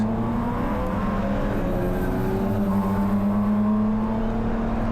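A BMW Spec E46 race car at Willow Springs accelerates hard down the front straight, its engine a loud, steady, close drone whose pitch climbs gradually throughout.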